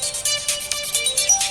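A mobile phone rings with a bright, repeating electronic ringtone melody, close and clear, in quick pulsing notes with no voices over it.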